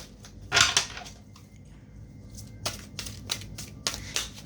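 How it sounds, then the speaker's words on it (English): Tarot cards being shuffled by hand, a few crisp riffling bursts and soft slaps spaced unevenly, close and fairly quiet with no talking. "I'm going to do 2 more shuffles"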